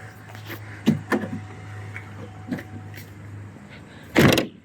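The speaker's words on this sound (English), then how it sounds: "we're going to go ahead and we're going to close this door" A few light knocks and clicks, then the rear door of a 2001-2007 Ford Escape shuts with a solid thump near the end, close by.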